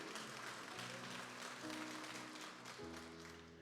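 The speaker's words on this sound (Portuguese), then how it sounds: "Você pode aplaudir a ele, por favor" Church congregation applauding during a communion service, a continuous wash of clapping heard at a distance and fairly faint, with a low sustained tone underneath.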